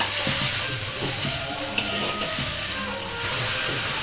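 Onions frying in a pan until brown for masala chicken, a steady close sizzle and hiss with faint stirring scrapes throughout, no talk.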